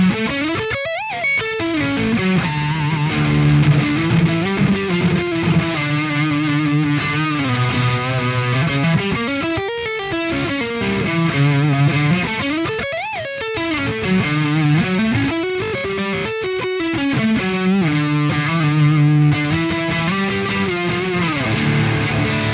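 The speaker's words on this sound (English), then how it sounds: "Here's a couple of lead-ish kind of riffs on the neck pickup." Distorted electric guitar on the neck pickup playing lead riffs with bending, sustained notes and a warm, smooth tone, loud and continuous with no voices.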